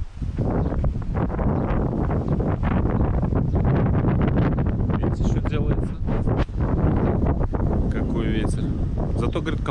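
Cold wind buffets the microphone outdoors, a loud continuous rushing roar lasting the whole stretch, with a voice talking over it.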